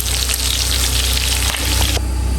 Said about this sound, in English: the meat is frying.